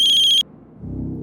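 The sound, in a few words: telephone ringing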